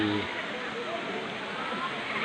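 Water rushes steadily at Tat Ton waterfall in Chaiyaphum, Thailand, a continuous broadband roar with someone speaking over it.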